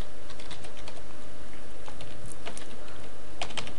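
Rapid typing on a computer keyboard, a dense run of close, crisp key clicks with a few louder taps, continuous and without talk.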